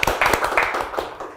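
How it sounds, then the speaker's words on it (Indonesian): Several people clapping to welcome a guest into an office, a short, dense burst of close applause with no talking over it. "Tepuk tangan lagi dong."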